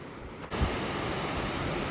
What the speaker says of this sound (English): this waterfall is beautiful